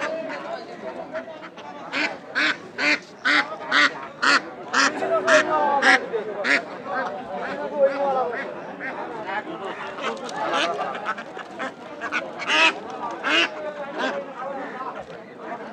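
Caged ducks at Ramganj market quack in loud, rapid bursts, a dense run of calls close by, with people talking in the background of the busy market.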